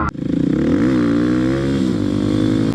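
A supermoto motorcycle engine revs up close and loud, its pitch rising briefly then holding steady in a short burst.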